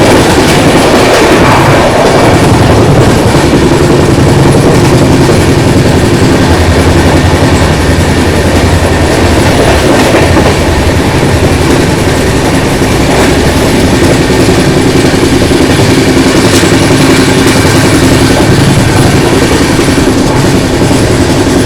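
Sanghamitra SF Express rumbling along at speed as an opposite train approaches, a loud, dense roar of wheels and rails with steady clickety-clack and occasional squeals, close and continuous with no talk.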